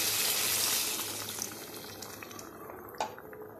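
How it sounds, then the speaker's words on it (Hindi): A cup of water goes into chicken karahi cooking in a hot pan, giving a broad hissing splash that slowly settles into a softer simmering sizzle, with a small clink near the end. "अब हम चिकन में 1 कप पानी डालेंगे।"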